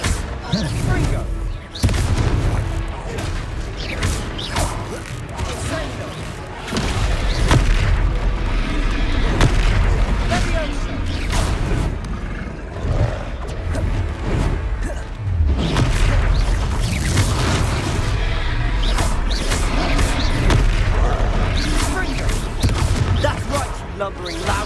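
Repeated Confringo fire-spell blasts in the Hogwarts Legacy video game, booming explosions and crashes recurring through a dense, loud battle mix, with a voice talking over the action.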